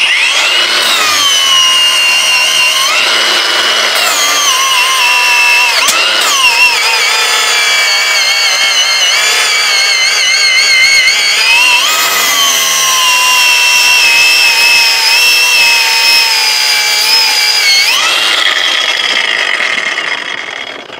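A loud, continuous high-pitched whine of a LUDYVI LB130 cordless angle grinder cutting, rising and dipping in pitch as the load changes, with no voices.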